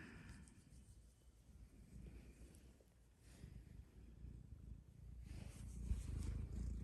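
A cat purrs softly right after waking from sleep, a low steady rumble close by, with a faint breezy hiss in the background and no talking.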